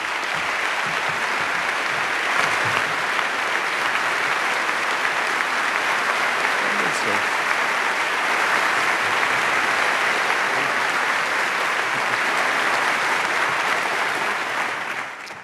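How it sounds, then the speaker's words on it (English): A debate audience gives sustained applause to welcome the debaters onto the stage. The clapping is loud, dense and steady for about fifteen seconds before tapering at the very end. "Let's have a big round of applause for the two debaters who will be arguing for the motion, Niall Ferguson and David Lee."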